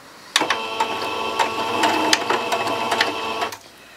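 A sewing machine stitches a few points forward and then in reverse to lock a seam on a beginner's Halloween patchwork hexagon table runner. The close, steady motor whir and needle clatter run for about three seconds before stopping.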